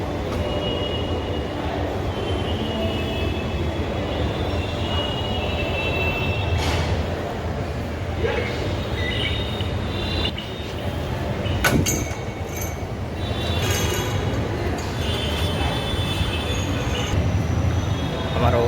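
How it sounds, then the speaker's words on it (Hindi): A metro train runs with a loud, steady rumble and rolling wheel noise, with occasional squeals and clunks from the carriage and a person talking now and then over the din. "हमारा हो गया मेट्रो का अंदर एंट्री।"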